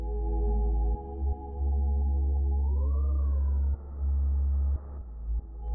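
A sustained synth tone through a delay effect with high diffusion, repeating echoes blurring into a smeared, reverberant wash, pitch bending upward midway before settling.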